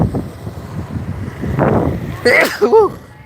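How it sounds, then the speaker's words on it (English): One sharp sneeze bursts out near the mic over gusty wind noise, followed by a few brief vocal sounds. "had to sneeze"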